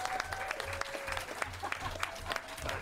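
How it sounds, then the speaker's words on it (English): Scattered applause and cheering from an audience at a New York officials' event about the Amazon headquarters announcement, fairly faint and uneven, with sharp claps and a voice or whistle-like tone mixed in. "Cheering section here."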